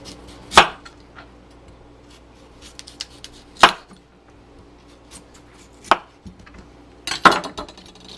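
A knife slicing shallowly into the tough skin of a kohlrabi to peel it gives four sharp, close cuts spaced a few seconds apart, with light handling noises in between and no talking.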